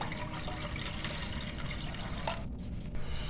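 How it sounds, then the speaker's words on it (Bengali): Water being drained from washed lentils, a steady close pour and splash running continuously before briefly easing off. "এখান থেকে আমি জলটা এরপর ঝরিয়ে নিচ্ছি।"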